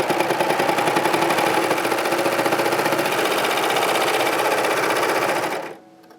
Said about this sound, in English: so the serger handles it great